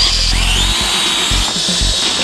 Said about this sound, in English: Can we drill it?